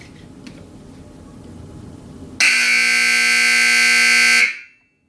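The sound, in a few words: rodeo timer buzzer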